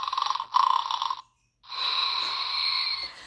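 An electronic toy plays a synthetic snoring sound: a few buzzy, tonal bursts, a short silence, then one long drawn-out snore, close and fairly loud.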